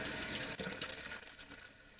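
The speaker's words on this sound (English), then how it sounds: "So you wash your hands 3 times, like so, and you have to make sure that the water gets in between your fingers." Hands being washed under a running tap, water splashing and pattering steadily with uneven bursts as fingers move through the stream, close and fairly loud with no talking.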